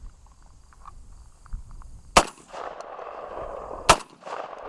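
Two loud, sharp shotgun blasts from a Hatsan Escort DF12 firing slugs at an outdoor range, spaced about two seconds apart, each followed by a brief rumbling echo.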